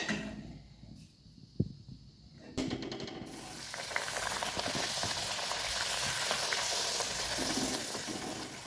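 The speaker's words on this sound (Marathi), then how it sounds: "तर सर्व पुऱ्या आपण या प्रकारे तळून घेऊया." Beetroot puris deep-fry in hot oil with a loud, steady crackling sizzle that swells after a splash as dough goes in, continuing close and unbroken with no talking.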